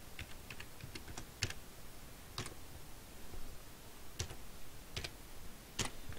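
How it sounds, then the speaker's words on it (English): A faulty computer keyboard clicks under irregular typing, with sparse, quiet keystrokes and a few sharper taps spread over a soft background hiss. "Keyboard's playing up"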